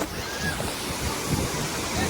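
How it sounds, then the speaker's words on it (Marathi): Sea waves wash onto Devbag beach in a continuous soft rush of surf, mixed with wind buffeting the microphone, heard at moderate loudness without clear talking. "लाटा येतच जात आहे"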